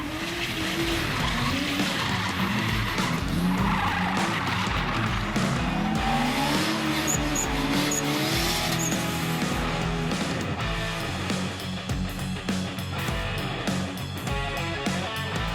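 Drift car tires skidding and squealing on a race track over a revving engine, loud and close, with sustained screeching that rises and falls through the slide.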